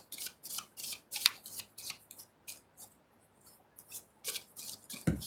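A tarot card is drawn from the deck: quiet, close papery shuffling and sliding of cards in a series of short rustles and flicks, with no talking.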